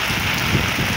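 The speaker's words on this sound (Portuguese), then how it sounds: "Chuvada forte, fazer água." Heavy rain in Passira, Pernambuco, a dense, loud, unbroken hiss of downpour filling the moment with no gaps.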